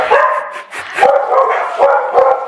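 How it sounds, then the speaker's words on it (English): Several dogs bark in quick bursts, four or five sharp yapping barks close by, with no other sound between them. "Those are my dogs"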